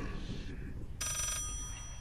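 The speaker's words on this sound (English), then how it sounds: "Why is there another phone?" A telephone rings in the horror video game Layers of Fear, a brief bright buzzing trill of under half a second, moderately loud over a dark low ambient drone.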